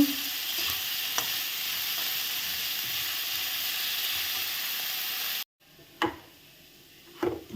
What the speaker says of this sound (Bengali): আর দিয়ে দেবো সামান্য পরিমাণে হলুদের গুঁড়ো দিয়ে আমি এগুলোকে ভেজে নেব।